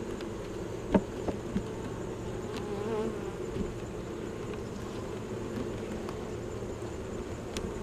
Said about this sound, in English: Plenty of guard bees on me.